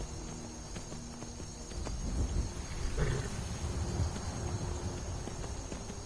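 Horse hooves clop in a steady walking rhythm in Skyrim, soft and even, over a constant background hum.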